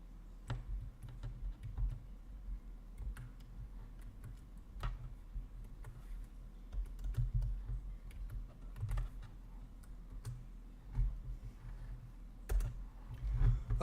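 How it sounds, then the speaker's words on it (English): Rapid typing on a computer keyboard during a live chess arena stream, a steady run of quiet, close key clicks with occasional louder taps, no talking. "When I get typing fast, I miss."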